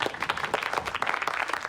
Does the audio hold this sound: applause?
yes